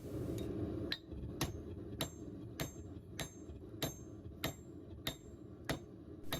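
Hammer forging hot ball bearing steel into a kiridashi, drawing down and tapering the handle: about eleven sharp, ringing metal strikes at a steady, even rhythm, close and loud, with no talk.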